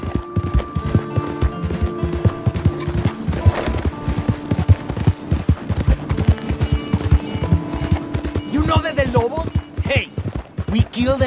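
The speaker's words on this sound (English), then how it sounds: "You hear those horses, those shots?" Horses gallop in Red Dead Redemption 2, a dense, rapid clip-clop of many hooves with a horse neighing near the end, under a voice speaking throughout.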